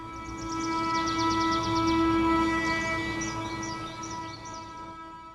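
A train rumbles steadily with sustained tonal hums from the engine, while faint high chirping sounds drift over the top.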